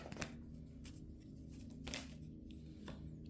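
A deck of cards being shuffled, close and quiet, with a few soft riffling bursts against a low background hum.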